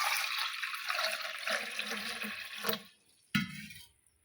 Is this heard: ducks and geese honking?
no